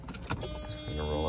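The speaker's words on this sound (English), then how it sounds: "I'm gonna roll up the window" The power window of a 1990s Mercedes-Benz S600 W140 with a V12 motors upward with a smooth, steady electric whir from inside the cabin, following a few brief clicks and taps.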